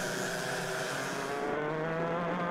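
Club100 lightweight racing karts passing at Buckmore Park during a sprint championship race, a steady high-pitched engine drone from several karts close by, without pause.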